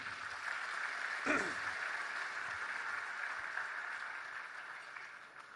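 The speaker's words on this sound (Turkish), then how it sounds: "Büyük bir alkışı da hocalarımıza istiyorum." Applause from a banquet audience at a civil engineers' honor night, a soft steady wash of many hands clapping at a distance, low in level and sustained for several seconds.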